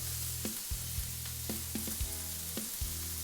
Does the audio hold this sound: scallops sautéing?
yes